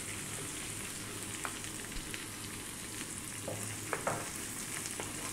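Chopped spinach cooking in a pan with onion, garlic and dried oregano gives a steady, moderate sizzle close by, with occasional stirring scrapes and light taps and no voices.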